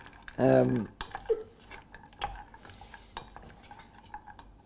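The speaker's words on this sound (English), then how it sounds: "we're going to do a bit of chocolate stirring" Metal spoon scraping and clinking against a pan while chocolate melts with milk, soft intermittent stirring taps after a brief spoken remark.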